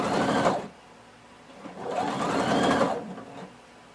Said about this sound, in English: I'm going to sew using 3/8 of an inch seam allowance all the way around